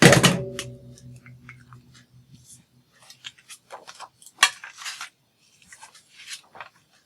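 Scissors snip through a piece of acetate in a run of short, crisp cuts, close by and fairly quiet, following a brief louder knock at the start.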